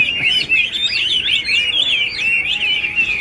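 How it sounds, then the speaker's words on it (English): Several hwamei, painted eyebrow birds, singing together in a park: loud, close, continuous warbling and whistled phrases overlapping one another, bright and melodic, with faint background murmur beneath. "They bring their birds to have fun together and sing together"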